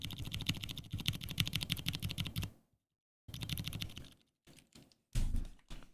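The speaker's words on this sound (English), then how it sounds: "Silent switches. Not as sexy as I thought they were. just a kind of thud, padded kind of thud, scratchy, pingy." Silent tactile mechanical keyboard switches being typed on in quick bursts, a dense patter of soft, padded thuds with slight scratchy clicks, close and quiet, broken by short pauses and no voices.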